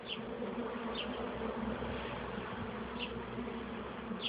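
A dense swarm of honeybees buzzes steadily and close during a hive transfer, a continuous droning hum with occasional individual bees zipping past.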